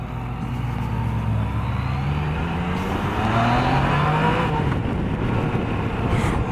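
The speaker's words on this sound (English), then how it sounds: "You hit the throttle and this thing just takes off, man." A Yamaha FJ-09/MT-09 Tracer motorcycle accelerates hard, its engine note rising in pitch through the gears as a loud, continuous roar.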